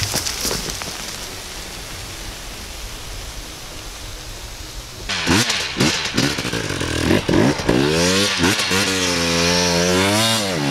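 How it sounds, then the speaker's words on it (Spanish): Rough broadband noise gives way to a motorcycle engine revving hard at full throttle in second gear up a slope, its pitch climbing and falling in surges as it strains under load. "segunda, gas a fondo, para llegar arriba sobrado y que la moto caiga arriba"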